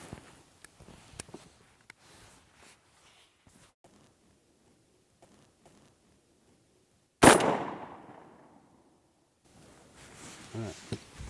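A single loud rifle shot fired with a Velocity Precision recoil-less bolt carrier, sharp close crack with a decaying echo, preceded by quiet handling clicks and followed by faint movement.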